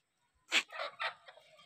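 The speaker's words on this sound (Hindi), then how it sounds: "ये तीन मुर्गे हैं सफ़ान के, इसके अलावा ये मुर्गियां हैं।" A few short clucks from a chicken, close and clear, in a quick uneven burst with quiet around them.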